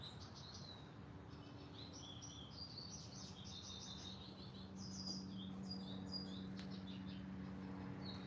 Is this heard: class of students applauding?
no